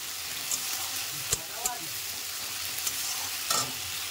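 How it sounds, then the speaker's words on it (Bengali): Ginger-garlic paste sautéing in a pan, a steady soft sizzle with a few sharp scrapes and clinks of the stirring spoon scattered through it. "এবার এটাকেও আমি ভালো করে নেড়ে চেড়ে কষে নেব, যতক্ষণ না কাঁচা গন্ধটা যায়"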